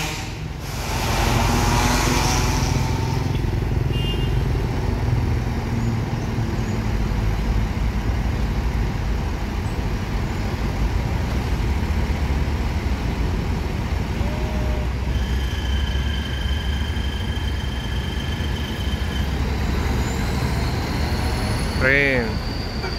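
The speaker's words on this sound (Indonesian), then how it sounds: "Alcoa Hino RM 280 Aero New Armada Skylander." A Hino RM 280 bus with a New Armada Skylander body idles loudly nearby with a low diesel rumble, joined by hissing air-brake releases and a few squeals, while people talk over it.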